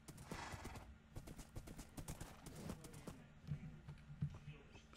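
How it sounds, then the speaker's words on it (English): Fast horse hooves clip-clopping in the Minecraft video game, a quick, irregular run of soft thuds close by, fairly quiet, with faint clicking mixed in. "This horse is so fast."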